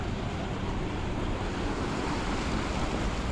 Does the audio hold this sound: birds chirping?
no